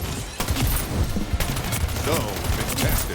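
Dual SMGs firing in Splitgate 2, dense rapid bursts of gunfire that stay loud and close almost without a break across a few seconds of hectic arena combat.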